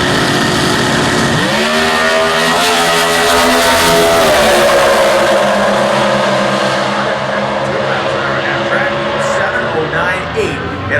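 A 2015 Chevy Camaro E-Altered automatic drag car with a 342 cubic inch Chevy engine, at a Comp Eliminator drag race at the US Nationals in Indianapolis, roars loud and continuous, its pitch climbing in steps through the gears over sustained crowd and track noise.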